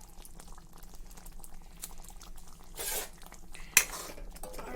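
Fish egg curry gravy simmers in a pot with a soft, steady bubbling hiss, and a single sharp utensil clink sounds near the end.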